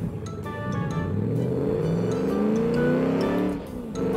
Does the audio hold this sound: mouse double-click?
no